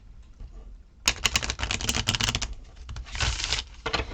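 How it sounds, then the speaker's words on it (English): Tarot card deck being cut-shuffled by hand, a quick burst of crisp, rapid flicking and slapping of cards, close and moderately loud, with a second flurry after a brief pause. "we'll cut shuffle a whole bunch"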